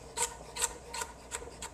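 A kitchen knife chops carrot pieces on a cutting board in five quick, crisp scraping strokes at an even pace, close and fairly quiet.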